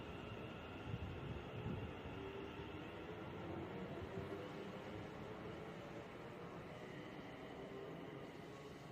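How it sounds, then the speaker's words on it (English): A train pulls out of Coventry station on the West Coast Main Line toward New Street, giving a steady, fairly loud rumble and rolling drone for the whole stretch, with no voices over it. "Out goes 1 Yankee 44 to New Street on time at 14:15."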